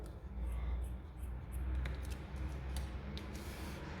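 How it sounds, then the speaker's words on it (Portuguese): Scissors snip a piece of yarn for a crochet slipper, a few quick faint cuts close by over soft handling noise and a low background hum, with no talk. "Agora, você vai cortar um pedaço de fio"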